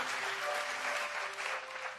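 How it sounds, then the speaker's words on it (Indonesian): A church congregation applauds loudly during a Sunday service, a dense continuous clapping with a faint held tone beneath it. "Kasih tepuk tangan dia paling dahsyat, dia paling meriah buat Tuhan."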